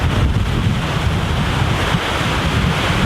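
A waterfall near Skaftafell by the Vatnajökull glacier in Iceland roars close by, a loud, unbroken broadband rush mixed with wind buffeting the microphone.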